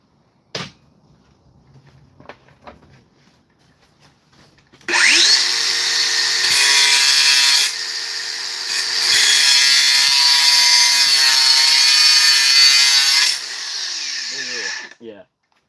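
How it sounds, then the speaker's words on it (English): DeWalt DCG420 cordless angle grinder fitted with a cutoff wheel spins up after some handling clicks and cuts for about eight seconds, a loud sustained high-pitched whine and rasp up close that winds down at the end. "See how this does with the cutoff wheel. This new DCG 420."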